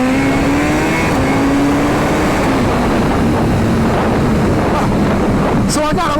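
A 1600cc built-motor Suzuki Busa motorcycle accelerating hard, its engine note climbing through rising gears beneath heavy wind buffeting on the microphone.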